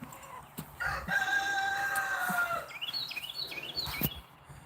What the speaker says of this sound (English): They're the hens.